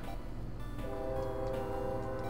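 A train rumbles along steadily in the Phantasy Star 3 game, with a sustained horn-like tone emerging partway through over continuous low mechanical noise.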